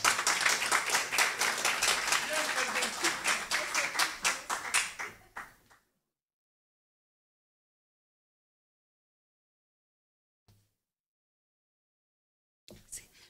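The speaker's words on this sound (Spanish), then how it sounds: "a quien recibimos con un cariñoso aplauso para Carmen." Forum audience applause welcoming speaker Carmen Brenes, secretary general of ANDE: a close, fairly brisk round of many hands clapping that stops abruptly after about five seconds, followed by near silence with a couple of faint knocks.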